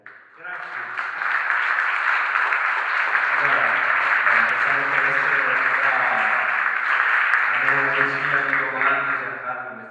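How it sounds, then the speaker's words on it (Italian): Audience at a cinema culture evening in Crema applauding guest Pippo Crotti: a dense, even wash of clapping swells in quickly and holds for several seconds before fading, with voices mixed in. "Io lo applaudo, non so voi."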